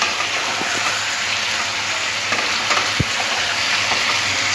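Chicken pieces frying in chilli chicken sauce, a loud, dense, continuous sizzle up close with a single soft knock of a utensil midway.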